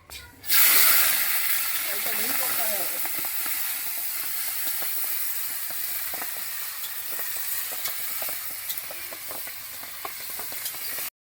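Spicy red mutton sizzling and being stirred in a pan in a village outdoor cooking setting, a steady hiss of frying with scraping stirs throughout, with faint background voices.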